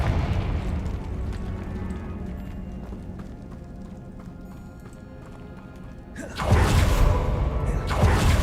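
A Confringo blast spell going off in Hogwarts Legacy, a loud burst about six seconds in that swells sharply over a low, busy game soundscape and lingers with a booming tail.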